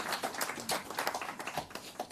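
An audience claps for public health workers at a UNICEF initiative launch event, a fairly faint, steady patter of scattered applause with no talk over it.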